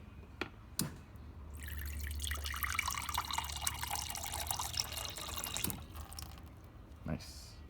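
Water from a refrigerator door dispenser streams into a cup in one steady, splashy pour lasting a few seconds, preceded by a couple of faint clicks and ending with small drips.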